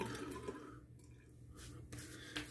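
Water splashes and drips at a sink as a face is wetted before a straight razor shave, a soft, close, continuous trickle with brief louder splashes.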